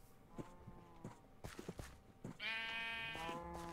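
Sheep in Minecraft with the Better than Wolves mod give one long, wavering bleat, preceded by soft footstep-like thuds and followed by a lower sustained tone, with no talking.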